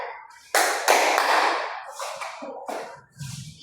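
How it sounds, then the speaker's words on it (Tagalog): A classroom gives a few sharp claps, with brief bursts of clapping and taps scattered unevenly across a few seconds; no talking. "Bigyan na natin sila ng 3 palakpak."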